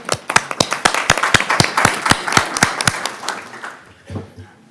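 A few people clapping at a county board of commissioners meeting, a sparse, sharp run of distinct hand claps in a quick, slightly uneven rhythm for about four seconds, close and fairly loud, then a brief murmur as it stops.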